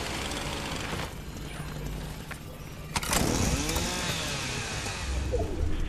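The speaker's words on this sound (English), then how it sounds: "The chainsaws are really fun." A chainsaw runs in Fortnite during the Fortnitemares 2024 Halloween event, a loud continuous buzzing drone that surges and revs up near the middle and stays close and harsh to the end.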